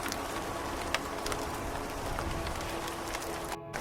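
Heavy rain in a Hindi cartoon pours as a dense, steady hiss with occasional sharper drop taps. It keeps a constant level throughout, with a brief dip near the end.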